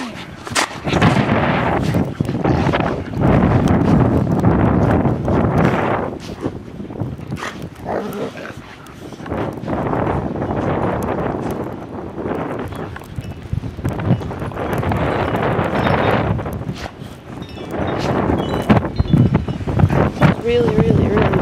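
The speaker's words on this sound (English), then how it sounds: "It's really, really, really windy, isn't it?" Strong blizzard wind gusts roar steadily across the microphone in a snowstorm with dogs, buffeting loudly throughout with brief lulls, while people talk and call out intermittently.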